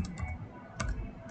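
Typing on a computer keyboard while entering Cisco IOS commands, a few quick soft key clicks in irregular bursts, close and quiet.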